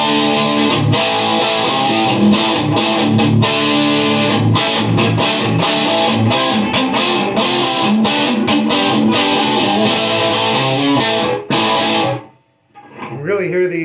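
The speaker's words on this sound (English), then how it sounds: "what does it sound like with a little overdrive? Well, let me switch on the tube screamer circuit." Vox Mark III mini electric guitar played through a tube screamer overdrive circuit, loud strummed and picked distorted chords in a steady rhythm, ending abruptly before a brief faint tail.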